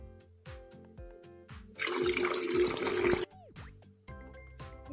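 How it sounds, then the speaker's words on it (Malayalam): Water poured from a glass into strained, sweetened carrot juice gives a steady broadband splash of roughly one and a half seconds in the middle, loud against light background music. "ഇനി നമുക്ക് 1 ഗ്ലാസ് വെള്ളം കൂടെ ഒഴിക്കാം."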